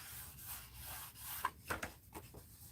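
Sandpaper rubs across the edge of Park Lane cardstock in a few short, soft, scratchy strokes, faint and close by, with no talking.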